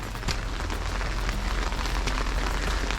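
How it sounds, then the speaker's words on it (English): Heavy rain pours onto a forest trail near Juneau, Alaska, where the path has turned into a big puddle, a dense continuous hiss with scattered close drips and splashes, loud and steady throughout. "It's raining so much that the trail is a big puddle."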